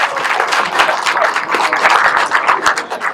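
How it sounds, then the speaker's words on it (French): Crowd applauding a young cyclist at a Tour de Bretagne race start in Sérent, a town street event; steady dense clapping fills the whole stretch, loud and close. "On l'applaudit une nouvelle fois s'il vous plaît."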